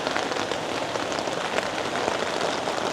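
Steady rain falls on bonsai pots, a dense, even patter of drops with no pauses, close and fairly loud throughout.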